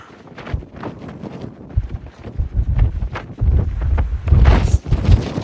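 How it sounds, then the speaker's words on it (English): Strong wind at a scenic mountain viewpoint, a loud continuous buffeting rush against the microphone that swells and gusts throughout, with no talk. "The wind is crazy."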